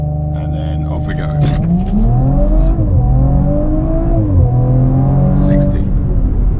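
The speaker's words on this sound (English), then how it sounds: "As we're here, we might as well try a bit of launch control." A 2018 Audi RS4 B9 Quattro launches hard under launch control. Its engine roars loud and close, rising in pitch through successive gears with brief dips at each shift.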